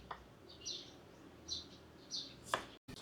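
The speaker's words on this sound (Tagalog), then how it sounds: "Huni ng ibon, province na province." A few bright, high chirps of birdsong repeat at intervals, faint and somewhat distant against a quiet background, in a rural province in the Philippines.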